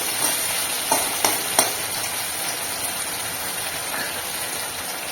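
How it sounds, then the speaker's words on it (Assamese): Ginger and green chili fry in a pan, a dense close sizzle punctuated by three quick scraping strokes of a stirring spoon early on, then steady frying without speech. "ভালদৰে অকণমান লৰাই দিম।"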